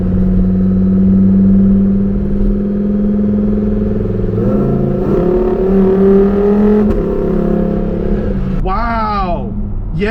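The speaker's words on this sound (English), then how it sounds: "Putting it in Strata mode really, really calms that exhaust down." A Lamborghini Huracan EVO engine rumbles and revs up, its exhaust rising in pitch toward the end, loud and close.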